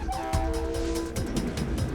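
A PNR passenger train rumbles along the rails, its horn sounding a sustained tone over the running noise before fading into rhythmic rail clatter.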